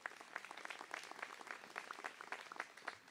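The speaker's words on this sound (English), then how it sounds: "let's give them a round of applause" Audience at a spring commencement ceremony clapping, a faint, distant patter of scattered applause with irregular louder claps, continuing throughout without talk.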